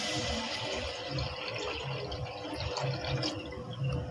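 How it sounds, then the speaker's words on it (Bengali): About a mug of water pours into a pan holding date-palm jaggery from Purulia for a red potato pitha syrup, a steady close splashing gush that runs unbroken for several seconds with no voices. "1 মগ মতো জল দিচ্ছি,"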